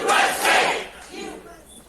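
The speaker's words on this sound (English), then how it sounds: "he tries to start a USA chant" A small rally crowd chants "USA" in two ragged bursts of shouting that quickly lose energy and fade out.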